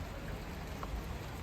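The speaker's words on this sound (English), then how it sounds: "oh, I'm getting rain down my neck." Steady rain falls outdoors along the Herengracht canal in Amsterdam, a dense even hiss of drops that stays constant throughout, close and fairly loud, with no voices.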